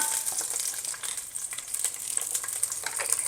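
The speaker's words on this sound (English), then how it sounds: "So that sounds like my sausage is cooking" Sausage frying in a pan on a home stove, a steady soft crackling sizzle with light popping spatters, fairly quiet and continuous with no talking.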